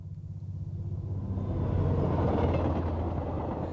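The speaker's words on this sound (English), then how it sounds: "Sorry, Clive, I can hear a train." Train passing near a railway crossing, a low rumbling roar that builds over a few seconds and holds steady, close and continuous with no voices.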